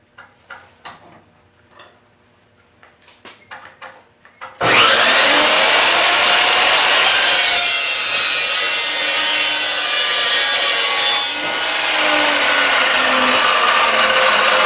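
A saw cuts small square pieces off metal stock for plasma table legs: a few quiet taps, then loud, continuous, harsh cutting from about the five-second mark to the end, dipping briefly near eleven seconds.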